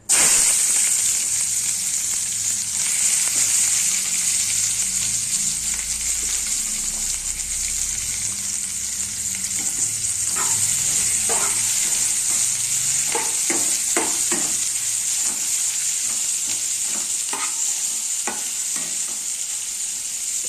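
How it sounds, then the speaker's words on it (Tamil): Onions frying in hot oil for a dried-fish (karuvadu) thokku, a steady loud sizzle throughout with scattered stirring clicks and scrapes toward the end. "இப்போ எண்ணெய் காஞ்சிச்சு, நம்ம அதில் வெங்காயம் சேர்த்துக்கலாம்."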